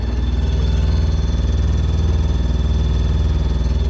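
Sailboat engine running hard at about 2400 rpm while cruising against a current, a loud, steady, close low drone with a regular throbbing pulse throughout and no voices.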